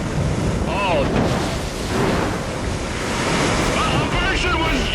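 Huge ocean waves crash and roar steadily under strong hurricane wind buffeting the microphone, loud and continuous, with a faint voice briefly audible in the background.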